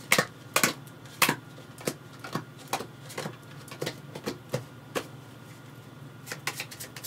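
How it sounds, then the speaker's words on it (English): A deck of cards is shuffled and handled during a four-player tabletop game of Promenade, with a series of sharp, irregular snaps and riffles close by, no talking over it. "so I need to shuffle a moment."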